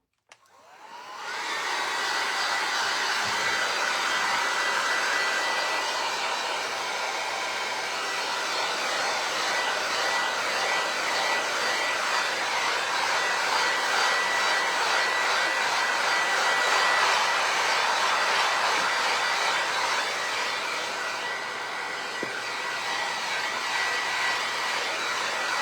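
A hair dryer blows steadily over a decoupaged vinyl record, switching on with a click and then running as a loud, even whooshing hum for the full length without talk.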